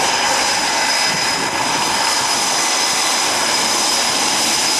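An F/A-18F Super Hornet jet roars past at an air show demonstration at Naval Air Station Oceana, a loud continuous engine rush filling the whole stretch with no talk.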